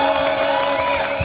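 A crowd at a live event in Wadgaon Pan cheers loudly, a brief wash of whoops and shouts over sustained musical tones.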